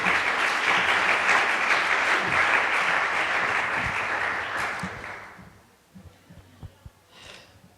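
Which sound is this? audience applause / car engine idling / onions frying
audience applause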